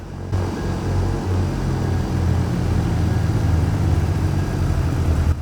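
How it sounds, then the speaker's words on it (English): A JF Duchess twin-engine light aircraft in X-Plane 12 spools down its engine, a steady low droning rumble heard through an open storm window, continuous and fairly loud with no talking. "let's just open the storm window here and listen to the engine spool down"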